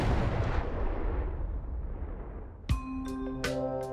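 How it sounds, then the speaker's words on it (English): A rocket warhead bursts when a high-energy laser overheats it, a heavy rumbling blast that fades slowly, followed by a sharp bang and a few ringing metallic tones near the end. "overheating the warhead, causing it to explode"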